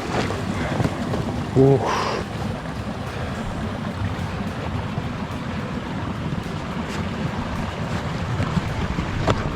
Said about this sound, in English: Really hear the water moving underneath.